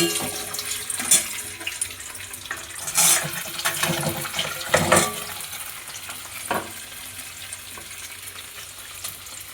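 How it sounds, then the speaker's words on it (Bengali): Cut paneer pieces frying in oil in a pan, a loud, close, continuous sizzle with bursts of crackling and stirring scrapes, easing slightly toward the end. "এদিকে পনির কেটে রেখে দিয়েছি, এটাকে ভেজে নেবো"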